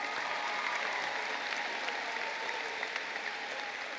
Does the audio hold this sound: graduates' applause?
yes